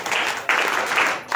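An audience applauds at an NSS camp gathering, a dense, steady wash of many hands clapping together, fairly loud and close, continuing without a break and with no speech.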